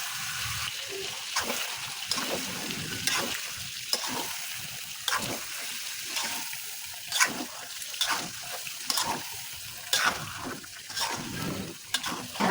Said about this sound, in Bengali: এখন দিয়ে দিচ্ছি পেঁয়াজের ব্লেন্ড